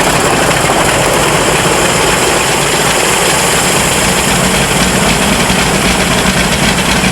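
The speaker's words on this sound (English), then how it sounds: "They've run all the engines before, but never with them so finely tuned" Piston engines of a Qantas Super Constellation airliner being run up on the ground, a loud, steady, throbbing roar that fills the whole stretch without a break and with no voices.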